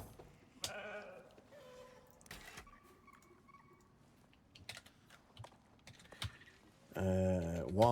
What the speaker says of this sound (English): Sheep female.